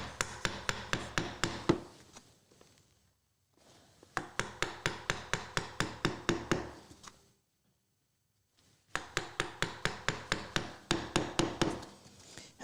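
Rapid, sharp mallet blows strike a chisel cutting into wood during a bed desk build, coming in three bursts of about a dozen evenly spaced knocks each, close and crisp, with brief quiet gaps between bursts.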